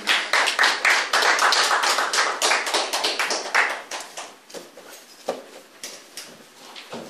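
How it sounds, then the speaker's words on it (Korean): A church congregation claps together, loud, dense and sustained at first. It then thins into scattered, fading claps near the end. "하나님께 영광의 박수 올려드립니다."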